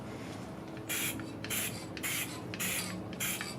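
Short spray bursts of sealant released from a distance, five hissing blasts of about half a second each with brief pauses between, fairly close over a quiet background.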